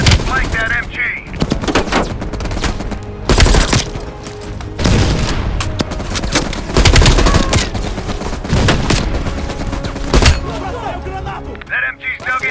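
Enemy machine gun fire in Call of Duty: Black Ops Cold War, loud sustained bursts and heavy booming shots crackling nearly throughout, with battlefield voices talking over the din.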